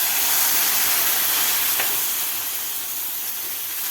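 Roasted semolina sizzles in a hot pan after half a cup of milk goes in, a steady bright hiss that fades slightly over a few seconds, with no talking.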